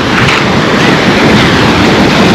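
Sea surf rushing on a warm Black Sea beach near Lazarevskoye, Sochi, a continuous loud close wash of breaking water mixed with wind buffeting the microphone.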